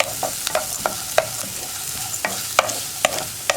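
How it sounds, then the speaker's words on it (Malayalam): Carrots and onions being sautéed for upma in a pan, with steady soft frying hiss and repeated sharp clacks of a spatula stirring against the pan. "ഇനി നന്നായിട്ടൊന്ന് വഴറ്റിയെടുക്കുക"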